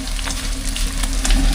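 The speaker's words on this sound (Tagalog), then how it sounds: "Iprito lang natin muna yan habang tayo nag-iwan ng ibang ingredients." Steady oily sizzle of fish frying in a pan, a close continuous crackle with no talking.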